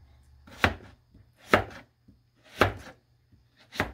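A knife chops lotus root and carrot into sticks on a cutting board, four distinct, evenly spaced, close thuds with quiet gaps between them.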